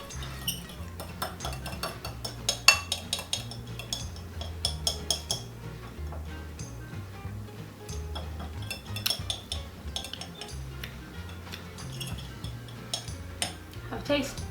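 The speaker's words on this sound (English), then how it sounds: "Then we'll go and stir it" A spoon clinks and scrapes around a bowl while lemon juice and maple syrup dressing for a pear salad is stirred, quick irregular taps close by, with a voice talking faintly now and then.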